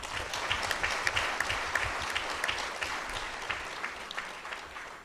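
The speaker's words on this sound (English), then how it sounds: "Clap for him again." Shareholders at an annual general meeting give a sustained round of applause, many hands clapping densely and evenly throughout, fairly close and loud.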